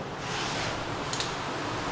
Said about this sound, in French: on entend la rivière